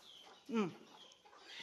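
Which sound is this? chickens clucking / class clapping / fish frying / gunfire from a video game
chickens clucking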